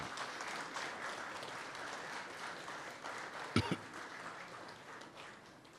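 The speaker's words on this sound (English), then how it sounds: "Let's give him another round of applause" Sustained applause from a large audience at a national aviation honours ceremony greets retired Captain Paul Aroner. It sounds even and slightly distant, with a sharp knock partway through, and fades toward the end.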